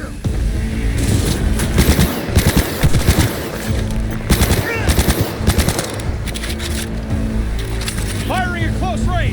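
Close-range machine gun fire in Cyberpunk 2077 hammers out in loud sustained bursts, with sharp impacts and booms layered in and voices shouting over the combat.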